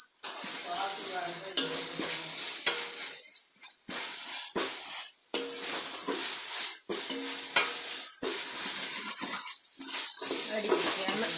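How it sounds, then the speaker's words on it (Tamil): Ginger garlic paste fries in a pan with a constant bright sizzling hiss, interrupted by repeated clinking stirs against the pan, fairly close and steady throughout. "இஞ்சி பூண்டு பேஸ்ட்டு போட்டு நல்லா கொஞ்சம் அந்த பச்சை வாடை போகிற வரைக்கும்"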